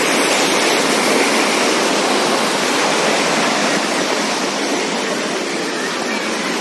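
Water splashes from a fountain in the Mughal garden at Achabal, Kashmir, heard up close as a loud, steady, unbroken rush that fills the whole stretch.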